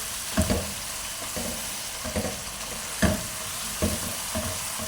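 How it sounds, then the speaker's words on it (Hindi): Spices sizzling in a pan for mutton nihari, a steady close frying hiss broken by several soft scraping stirs spaced a second or so apart. "अब जो हमने स्पाइसेस डाले थे उनको अच्छे से भून लेंगे"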